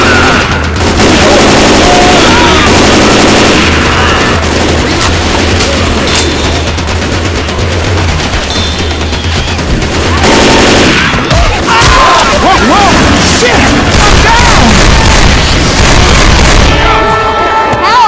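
Rapid, loud gunfire from the zombie shooter Left 4 Dead 2, with dense bursts and booms running almost continuously, overlapping frantic shouted voices and game chaos.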